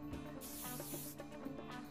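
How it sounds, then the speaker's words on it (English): Hairspray sprays in short breathy bursts over a steady low background hum, fairly close and soft. "then spray again with a bit of hairspray to secure"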